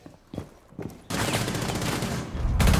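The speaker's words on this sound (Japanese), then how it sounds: "どうやって弾撃ったんだよ。" Gunfire from a new, bugged weapon in a video game: two brief isolated shots, then a dense, rapid burst of automatic fire that continues loudly to the end, with no voices over it.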